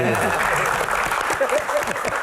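Audience applause at a live comedy Q&A show, a brief burst of clapping under and alongside voices talking in the room.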